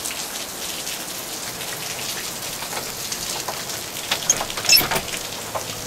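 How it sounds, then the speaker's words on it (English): Steady rain patters on surfaces on a wet morning, a dense continuous hiss with scattered closer drips and a few sharper taps near the end, with no voices. "it's a rainy morning"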